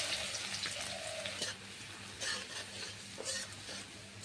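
Grated garlic and a pinch of asafoetida frying in leftover fish oil in a pan, making a soft, even sizzle with faint crackles and light spatter throughout.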